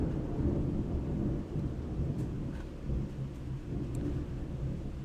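Thunder from a lightning storm outside rolls in as a long, deep, steady rumble with rain hiss underneath, heard from indoors and without talk.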